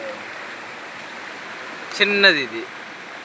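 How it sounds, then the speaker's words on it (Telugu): A steady, soft flow of water in a stream runs beneath a brief spoken remark near the end. "మన వంకలో అయితే వాటర్ ఫ్లో అయితే ఎక్కువ అయితే ఉంది ఈ రోజు అయితే"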